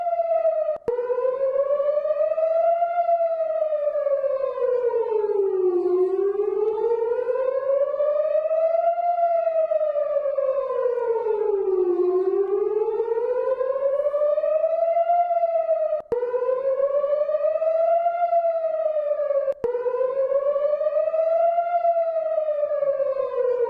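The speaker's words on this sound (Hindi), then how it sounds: "एक बार सुनिए ये दहशत का सायरन" An air raid siren in Tel Aviv wails alone, rising and falling in long slow sweeps, loud and steady, with a few faint clicks.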